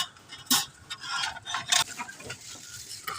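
Dishes and pots being taken out in a home kitchen, with quick clinks, clatters and scraping of metal and crockery close by, one sharp knock near the start.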